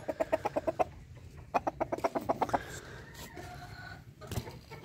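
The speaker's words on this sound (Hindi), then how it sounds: "ये बड़ा ख़तरनाक मुर्गा है" A five-year-old Aseel rooster and hens cluck nearby in quick rhythmic runs of sharp notes, two bursts with a pause between, then softer scattered calls.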